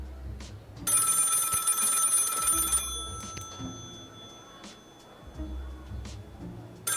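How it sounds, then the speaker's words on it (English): A telephone rings in the video game Lil' Guardsman, a bright repeating bell lasting about two seconds over low game music, with footsteps and small clicks around it. "We're gonna pick up the phone."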